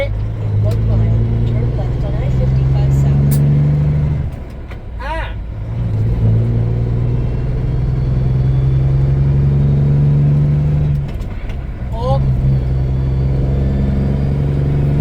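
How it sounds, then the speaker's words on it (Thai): A truck pulls away from a stop and climbs through its gears, the engine droning loud and close with pitch rising and dropping at each shift, while someone talks over it. "ดูนะ ออกตัวปั๊บ เกียร์สองสามสี่"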